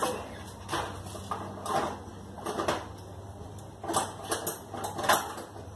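Metal screwdriver prying and scraping against an EA111 engine part, a series of faint irregular clinks and knocks spaced unevenly over a few seconds, close by and quiet.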